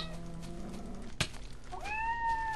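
Minecraft cat meowing in the Technic modpack, a short rising mew near the end over game ambience, after a sharp click mid-clip.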